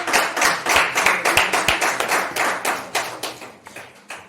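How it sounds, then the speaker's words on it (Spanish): Applause from a congregation at a church teaching service, a quick run of sharp, fairly close claps that thins slightly toward the end, with no talking over it. "Eso se merece un aplauso."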